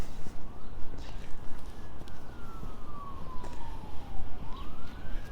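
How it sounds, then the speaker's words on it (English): Faint sirens wail far off, a single rising and falling tone drifting over steady outdoor background noise along a creek in Regina in winter. "A lot of sirens in the distance,"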